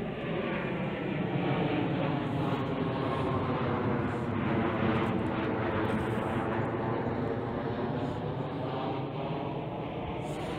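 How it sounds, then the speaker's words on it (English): A steady, broad engine roar holds throughout at constant loudness as an airplane passes overhead above a cemetery in Walkerville, South Australia, with no voices. "Lots of aeroplanes come through here."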